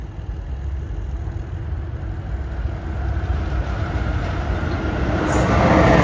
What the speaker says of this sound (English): This train is being led by Amtrak Siemens ALC 42319.